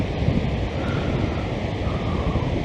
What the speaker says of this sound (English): But yeah, she's fair ripping through here at the moment, the wind